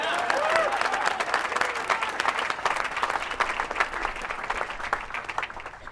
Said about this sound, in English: let's just give them a little round of applause real quick.